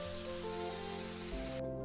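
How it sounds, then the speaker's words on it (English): An aerosol spray can hisses continuously and loudly up close while marking a path on the ground outside a new house, then cuts off abruptly near the end. "Alright, we're spray painting the path."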